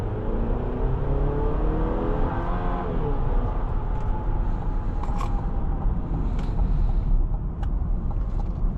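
A 2024 GMC Acadia AT4 accelerating from inside the cabin, a steady loud engine drone with rising harmonic whine as speed builds, a few light clicks near the end.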